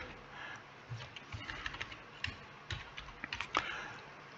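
Computer keyboard typing in workshop management software, a quiet, irregular run of soft key taps spread across the clip, close and alone with no talk.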